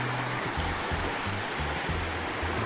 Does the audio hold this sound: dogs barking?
no